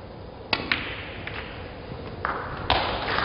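Snooker balls clicking together in a cannon shot during a professional tournament final, with a sharp cue strike, two quick ball contacts about a quarter second apart, and a later crisp knock against a quieter hall background.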